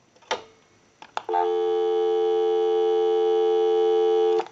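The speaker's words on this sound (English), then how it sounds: "Give you some dial tone." A couple of faint clicks, then a steady dial tone from an ITT 554 rotary wall telephone hums continuously, loud and close, until it cuts off.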